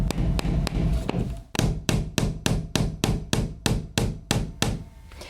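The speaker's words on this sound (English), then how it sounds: "So let me hammer this in." A hammer drives a finishing nail into a wooden chair rail during baseboard and molding installation, with a few spaced taps followed by a steady run of about a dozen sharp, close blows.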